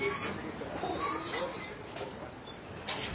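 Pigeons in Karachi coo softly in a few low, murmuring bursts, with faint chirps and background noise around them.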